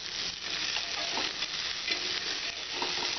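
Ginger and a pinch of compounded asafoetida are stirred together in a hot pan with onion for an aloo matar curry, making a continuous close sizzle with soft scraping strokes.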